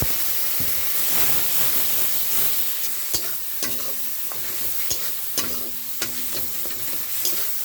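Spices with turmeric, chilli and cumin powder, plus a splash of water, stirred in a pan for ghugni, a steady sizzle with scraping strokes of the spoon and sharp clinks against the pan, close and alone.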